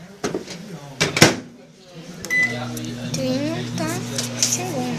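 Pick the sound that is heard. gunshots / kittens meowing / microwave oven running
microwave oven running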